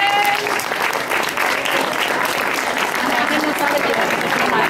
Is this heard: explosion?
no